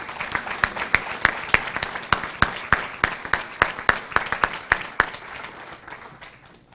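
Distinct, evenly spaced claps sound in a steady rhythm at a college signing-day ceremony, fairly close and moderately loud, fading slightly toward the end with no voices.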